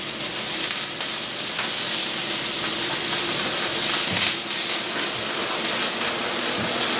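Octopus coated in olive oil sizzles steadily in a hot grilling pan for tapas, a constant close hiss with a few small pops throughout and no talking.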